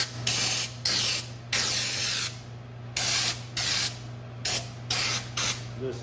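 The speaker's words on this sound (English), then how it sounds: "I'll show you how this nozzle sprays out." Lacquer blasting from a spray gun nozzle as it runs through the hose, in about six steady bursts of loud hissing spray separated by short pauses, with a low hum underneath.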